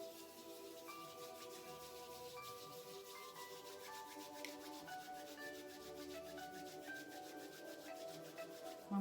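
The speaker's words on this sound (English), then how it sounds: "I'm going to start to rub the palms of the hands together" Palms of the hands rubbed briskly together to build warmth during a relaxation exercise, a soft steady rhythmic swishing friction heard close and alone under quiet music tones.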